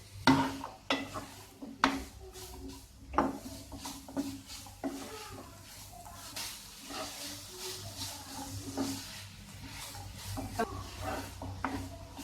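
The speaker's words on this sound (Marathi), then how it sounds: "गूळ असं व्यवस्थित परतून घ्यायचं आहे गूळ मिक्स झालं पाहिजे" Jaggery and grated coconut being stirred and sautéed in a pan for patolya, a spoon scraping and knocking against the metal in an irregular rhythm over a faint, steady background hum.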